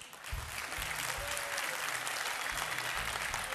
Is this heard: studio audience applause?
yes